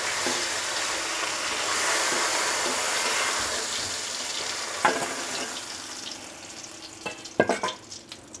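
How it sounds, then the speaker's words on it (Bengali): Pieces of bata fish sizzle steadily in hot mustard oil in a kadai, a dense hiss that later breaks into a few sharp clinks and scrapes as the fish is lifted out. "মাছটা ভাজা হয়ে গেছে, এখন আমি এটাকে তুলে দিচ্ছি।"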